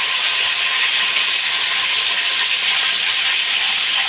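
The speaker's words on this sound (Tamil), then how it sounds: "இப்போ எண்ணெய் காய்ஞ்சிருச்சு கடுகு கடுகு நல்லா பொரியுது கருவேப்பிலை போட்டுக்கலாம்" Mustard seeds and curry leaves crackle in hot oil while tempering for vegetable biryani, an intense, loud, continuous hiss of sizzling with no pauses or voices.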